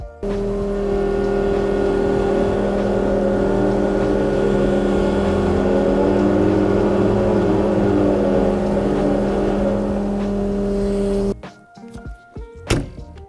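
A tractor with a bucket attachment runs steadily and loudly up close with a strong low engine drone for most of the stretch, then cuts off abruptly, followed by a few sparse clunks and knocks.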